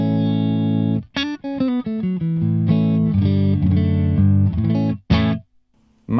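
An electric guitar plays through channel 1 of a V4 amp with a clean tone, no reverb, and bass, middle and treble set at noon. Loud, sustained chords and notes come in phrases with brief gaps and sharp pick attacks.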